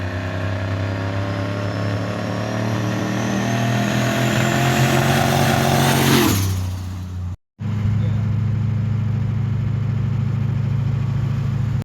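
A turbocharged 6.0 liter LS V8 in a squarebody truck runs loud and close, a steady heavy drone with a rising whine that cuts off sharply, a brief dropout, then the idle resumes.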